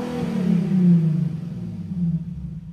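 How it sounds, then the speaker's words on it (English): A Nissan 370Z engine rumbles through a single rev, the low, deep growl swelling and then easing off, heard close with no voices. "I'm gonna give you guys a few revs real quick."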